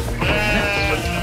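A sheep in Wales lets out a loud, close, wavering bleat lasting about a second, alone with no talk over it.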